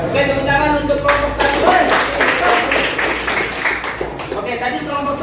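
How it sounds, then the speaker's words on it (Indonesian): Applause from a group of students in a classroom discussion session for a presenting group, dense hand clapping swelling after a moment of voices, with talk running underneath throughout. "tepuk tangan untuk kelompok"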